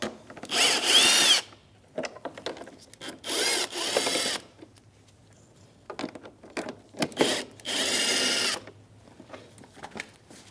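A power tool fitted with a 7mm socket removes the mounting bolts of a fog light and daytime running lamp assembly on a 2016-2025 Chevrolet Malibu, whirring in four loud, close bursts separated by quiet pauses.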